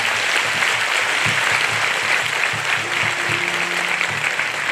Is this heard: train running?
no